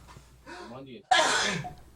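A single loud, explosive sneeze bursts out after some soft voiced breathing, close to the listener.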